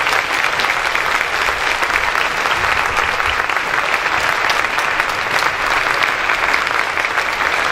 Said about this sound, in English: let's give our candidates and our wonderful moderator a round of applause.